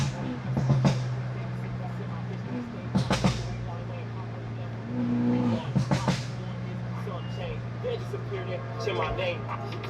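A BMW F30 cruises at sunset with a steady engine drone, punctuated by a few sharp exhaust pops and bangs; music with a rapping voice plays over the car throughout.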